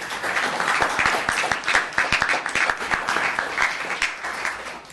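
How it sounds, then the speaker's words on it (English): A town council meeting audience in Los Gatos applauds, a steady run of clapping with sharp individual claps over a dense wash, moderately loud and continuous throughout. "let's give him a round of applause."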